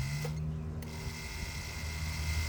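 Hydroboost ABS unit pump cycling on a Toyota 4Runner with the key on, a steady mechanical whir and hum close by that holds for the whole stretch, with no talking.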